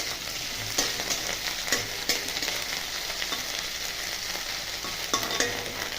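Crushed ginger and garlic fry in oil in a pan, the start of the masala for potato chops, giving a steady close sizzle with scattered pops and crackles and no voices.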